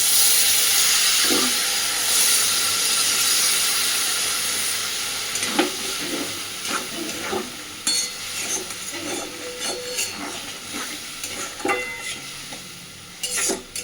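A little water poured onto fried snails and potatoes in a pan sends up a loud steaming hiss that slowly fades, followed by scattered utensil clinks and scraping as the pan keeps bubbling.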